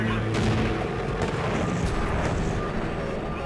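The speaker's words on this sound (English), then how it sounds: "The breakage causes an explosion in the engine" An airplane engine explodes after a wing part snaps off in a crash: a loud, rough roaring blast with crackling bursts, sustained without a break for several seconds.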